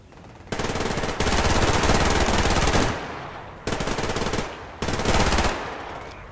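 Automatic gunfire from the video game Survarium, loud sustained bursts of rapid shots in three long volleys with short pauses between, no talking.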